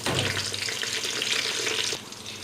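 Stuffed karela (bitter gourd) frying in oil in a pan, a steady loud sizzle and crackle that drops abruptly to a softer hiss near the end, with no voices.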